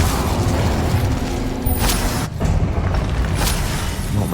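An Incendio fire spell is cast in the video game Hogwarts Legacy, sending loud whooshing bursts of flame over a dense, rumbling combat din, with two bright flares a couple of seconds apart.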